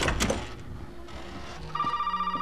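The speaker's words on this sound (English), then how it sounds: "Oh, yes, phone call." An in-game telephone rings in Resident Evil 7, a steady electronic ring entering partway through over a quiet, murky game ambience, moderately loud and alone with no talk.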